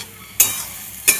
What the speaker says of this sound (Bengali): মশলাটাকে এবার ভালোভাবে কষিয়ে নেব